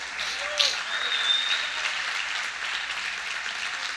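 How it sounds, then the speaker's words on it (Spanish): Congregation applause for God during a church service: sustained clapping from many people throughout, fairly close and even, with a sharp bump early on. "Dale un aplauso a Dios"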